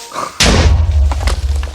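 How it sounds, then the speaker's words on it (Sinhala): A Minecraft explosion goes off, starting with a sudden loud booming thud and leaving a heavy low rumble that fades slowly, with no talking. "පිපුරුවා එතන"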